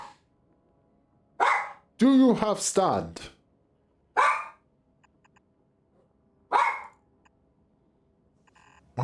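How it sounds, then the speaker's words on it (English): A pet dog at home gives several short, sharp barks spaced a couple of seconds apart, fairly close, with a person speaking briefly between them. "Why is my dog being so annoying?"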